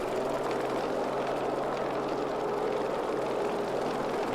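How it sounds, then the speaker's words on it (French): The piston engine of a Grumman F3F vintage fighter aircraft holds a steady run-up toward about 1800 RPM on the ground, a continuous droning hum heard from inside the cockpit at moderate level. "On va simplement pousser les RPM ici."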